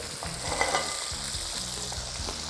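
Thin veal scallopini sizzle and spatter in a hot skillet, a steady close frying hiss with small pops throughout and no voices.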